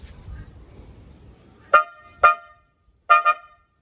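A Mitsuba ultrasonic car horn tested by tapping its wires, giving three short, loud, close bursts spaced apart, the last a quick double toot, after a stretch of low background murmur.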